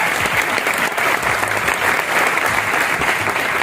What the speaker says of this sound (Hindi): जोरदार ताली आप सभी लोगों के लिए भाई